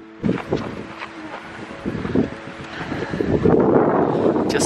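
Wind gusts buffet the microphone high on Acatenango volcano in Guatemala at around 3,500 meters, rough roaring bursts that build and grow louder toward the end.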